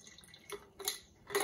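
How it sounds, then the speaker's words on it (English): Water is poured into an aluminium can that is being readied for crushing by atmospheric pressure, heard as three short splashy trickles, close and fairly quiet, with no talking. "I'll put a little bit more water in there so we have something to work with."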